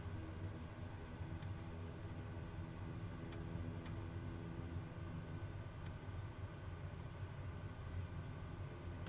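Steady drone of a Kodiak 100 single-engine turboprop idling or taxiing on a runway in Microsoft Flight Simulator, a continuous broadband hum with a few faint clicks, even and unbroken throughout.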